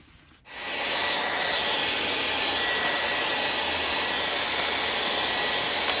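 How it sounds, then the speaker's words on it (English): Heat gun warming the surface of a 2020 Chevrolet Blazer tail light switches on with a click and settles into a loud, steady blowing hiss close by. "once I hit this with the heat gun to warm up the surface"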